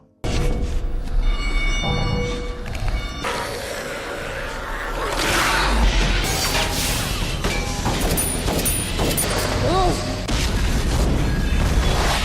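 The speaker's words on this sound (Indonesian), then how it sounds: "Tepat ketika salah satu kontainer meledak" A container explodes inside a secret zombie-infested lab in a film, a loud, dense crash of booms and mechanical clatter under a busy soundtrack, with bursts peaking midway.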